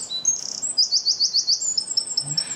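A house wren sings in Kentucky, a loud, close, rapid bubbling trill of high chirps that repeats several times in a quick rhythm.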